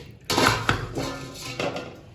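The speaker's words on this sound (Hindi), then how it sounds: "और इसके ऊपर ढक्कन देके रख देंगे।" A metal lid lands on a cooking pot holding potatoes and bell peppers, a couple of sharp clanks followed by another lighter knock, close and fairly loud with no speech.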